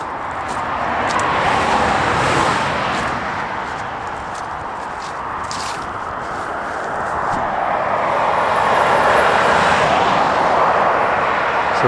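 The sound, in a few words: traffic passing fast on the A303 dual carriageway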